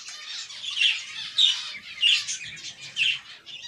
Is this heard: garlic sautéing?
no